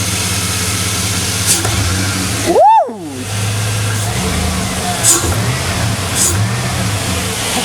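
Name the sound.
Chevy 5.3 V8 engine idling and revving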